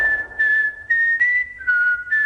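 A bright, steady whistled melody carried on sustained notes with short breaks between phrases, close and clear with nothing else behind it.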